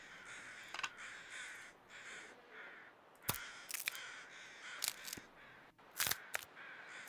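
Crows caw repeatedly in the snowy survival video game The Long Dark, harsh calls spread across the scene over a steady ambient wind bed, with a few sharp clicks standing out.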